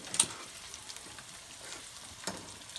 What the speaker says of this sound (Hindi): इसको हम लोग हल्के ब्राउन होने तक भूनते रहेंगे